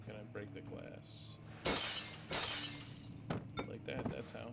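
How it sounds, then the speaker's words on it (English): Glass shatters twice in the horror video game Amnesia: The Dark Descent, two loud crashing bursts a moment apart, followed by scattered tinkling of falling shards over a low ambient hum. "how can I break the glass?"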